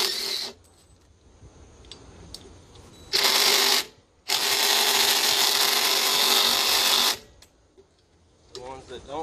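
Power tool with a 3/16 Allen bit backing out Loctite-coated bolts on a Gator Tail drive, two loud whining bursts, one short and one long, with someone speaking between them.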